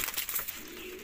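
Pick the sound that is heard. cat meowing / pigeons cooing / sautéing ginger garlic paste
pigeons cooing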